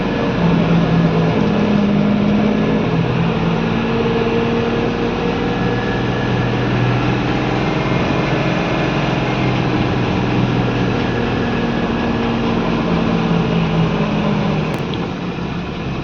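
A 10-gear truck engine drones steadily and loudly throughout, a low constant rumble as if heard from inside the cab.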